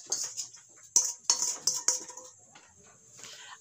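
A utensil stirs flour and melted sugar in a bowl for sweet potato cheese rolls, making several sharp metallic clinks at an uneven pace with soft scraping between them.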